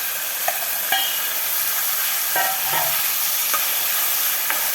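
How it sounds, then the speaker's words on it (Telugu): Bottle gourd pieces fry in a pan with a steady broadband sizzle, broken by several sharp scraping taps as a spoon stirs them; close and fairly quiet, no voices. "ఆనపకాయ ముక్కలు వేసుకుందాం."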